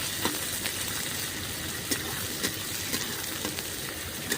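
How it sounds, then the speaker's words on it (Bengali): Chopped onions frying lightly in a pan with dried red chillies, bay leaf and nigella seeds, a steady close broadband sizzle with occasional soft clicks of stirring, no voices. "পেঁয়াজগুলোকে একটু হালকা ভেজে নেব।"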